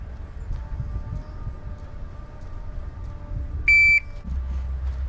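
A single sharp electronic shot timer beep, loud and high-pitched, cuts through steady low background rumble and lasts under half a second.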